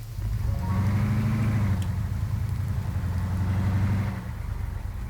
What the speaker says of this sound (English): I think it's a child on a motorbike.